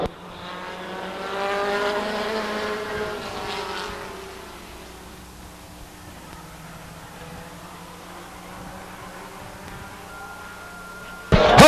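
Race cars in a heat race at Stockton 99 Speedway roar past in the first few seconds, then fade to a distant, quieter engine drone, ending with a brief sharp noise.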